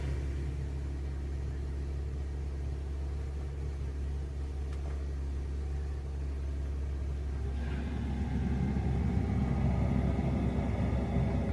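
The engine of a 2019 fifth-generation Dodge Ram truck runs with a quiet, steady low idle rumble. Partway through, a slightly louder airy layer joins it, and no one speaks.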